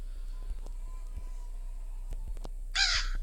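A crow caws briefly near the end inside the Granny horror video game, a short loud burst after faint background clicks and game noise.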